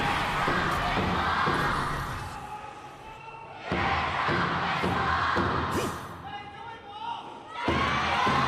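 Loud esports arena crowd at the KPL summer playoffs, cheering and chanting in rhythmic bursts with drums beating through it, swelling and dipping across the stretch.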